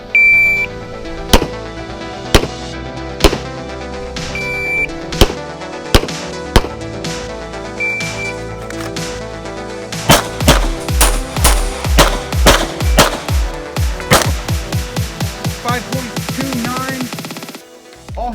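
Handgun shots fire at a close target during a speed and accuracy shooting drill: sharp, loud single reports at first, then a fast string of rapid shots, with electronic timer beeps between strings.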